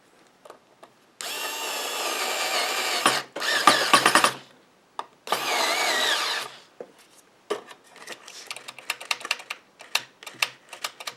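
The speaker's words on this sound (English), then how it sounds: "I'm putting these back in the original screw holes" Screws driven back into their original holes on a pinball machine with a power driver, giving two long whirring runs and a shorter third, separated and followed by light clicks and taps, with no voices.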